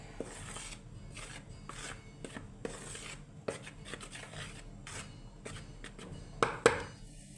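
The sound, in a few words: stirring bread rusk ingredients together in a bowl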